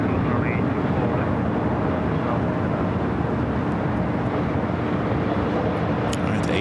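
An Airbus A380 taxis across runway 24 left at LAX airport, its engines a loud, steady broadband roar that fills the whole stretch without letting up.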